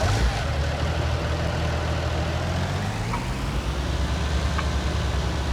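Tractor engine running in Farming Simulator 19, a steady low droning idle with a constant mechanical hum throughout, no speech over it.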